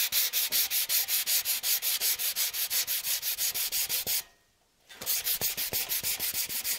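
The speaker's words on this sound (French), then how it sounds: "Le ponçage du mastic polyester," Polyester body filler on the front skirt of a BMW E30 is hand-sanded in quick, rhythmic back-and-forth rasping strokes, loud and close, with one brief pause partway through before the strokes resume.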